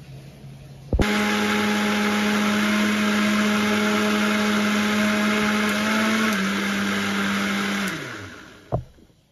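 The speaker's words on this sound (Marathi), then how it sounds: "आता हे आपण मिक्सरला फिरवून घेऊया." A mixer grinder whirs loudly at a constant pitch for several seconds, grinding finely, its motor tone dipping slightly before winding down and stopping with a clunk.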